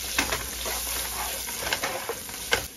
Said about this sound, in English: you're going to go ahead and add your onions right into that pot